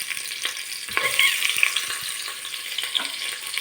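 Garlic frying in a pan after ginger and onion for Filipino chicken tinola, a steady bright sizzle with occasional stirring scrapes and clicks, close up and with no voices.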